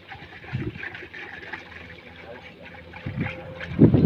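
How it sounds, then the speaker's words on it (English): Fertilizer is stirred into water to make a fertigation solution, with short sloshing splashes near the start and louder churning bursts toward the end over a low windy background. "I am mixing the fertilizer into the water"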